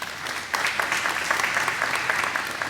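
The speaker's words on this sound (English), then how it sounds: "Give Paul a round of applause" An audience gives a guest a round of applause at a BC Aviation Museum press event, a dense, even wash of many hands clapping, moderately loud and sustained, with no talk over it.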